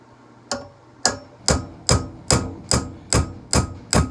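A hammer lightly taps a tenon into a smoothbore gun barrel: eight or nine sharp, close, evenly spaced knocks, roughly two per second, with no talking.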